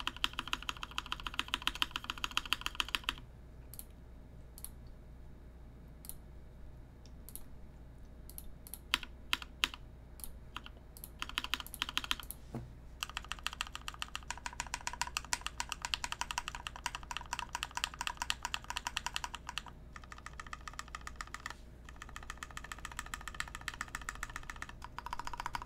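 Rapid, continuous typing on a QXP mechanical keyboard with lubed retooled Zealios V2 switches, a dense run of soft clacks and thocks close to the mic, with bursts of faster keystrokes and a brief pause early on.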